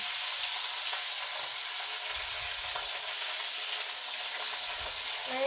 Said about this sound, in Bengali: সুন্দর অল্প ভাজা করতে হবে